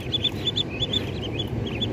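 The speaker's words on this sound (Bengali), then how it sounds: "হাঁসের বাচ্চা ফুটে গেছে" Newly hatched native ducklings peep in a steady, overlapping chorus of high, thin calls that repeat throughout, close and fairly loud over a low background rumble.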